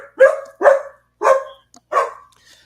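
A puppy named Zoe barks four times in a steady series, close and fairly loud, each sharp bark followed by a short gap, with no one talking over it.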